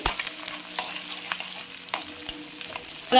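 Onions and green chillies frying in a pan sizzle softly up close, broken by repeated spoon scrapes and taps, with a louder clatter at the very end.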